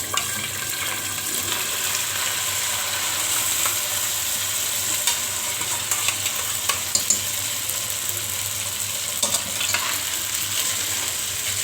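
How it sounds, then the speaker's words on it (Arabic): Vermicelli fries in hot oil in a pan for Egyptian koshari, with a steady close sizzle and occasional stirring scrapes throughout. "بدأنا نحمر الشعريه اهوت، وهنا بسخن برضو الزيت عشان احط فيه المكرونه ديت"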